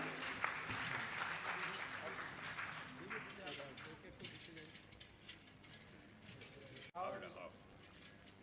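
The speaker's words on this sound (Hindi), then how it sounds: "जोरदार तालियां होनी चाहिए आपके लिए" Applause for a prize winner at a tribal pride day ceremony, a burst of clapping at the start that thins into scattered claps with a voice talking over it, then a brief jolt near the end.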